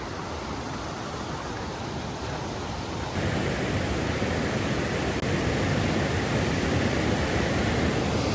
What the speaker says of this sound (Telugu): వాటర్ సౌండ్ వినండి ఒకసారి